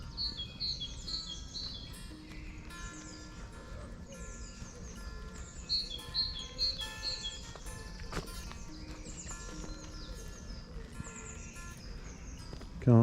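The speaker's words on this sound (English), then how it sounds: "Just listen to those birds." Birds sing in a woodland on a walk through Stoke Wood near West Ashling, Chichester, with repeated bright chirps and trills at moderate distance over faint footsteps and outdoor background.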